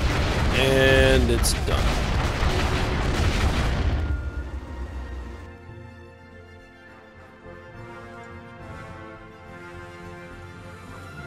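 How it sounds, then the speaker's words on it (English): In a Stellaris space battle, concussion missiles strike enemy ships with a loud, roaring explosive rumble. It fades after about four seconds into a quieter hum as someone briefly speaks. "Here come the concussion missiles."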